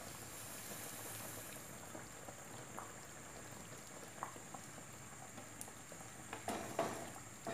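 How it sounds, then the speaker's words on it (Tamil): Steady bubbling and sizzling of a simmering pot of fish curry, with soft crackles and a few brief spatters, close by and without any talking. "குழம்பு நல்லா கொதிச்சிருச்சு."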